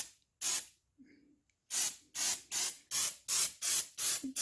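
An aerosol can sprays a thin protective coat onto the metal parts of a mower deck: one short burst, a pause, then seven quick, evenly spaced hissing bursts, close and loud.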